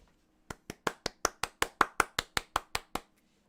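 Thirteen light, evenly spaced hand claps, a slow and deliberate polite golf clap, close and fairly soft against quiet.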